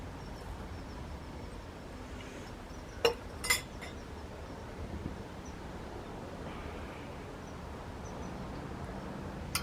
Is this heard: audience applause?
no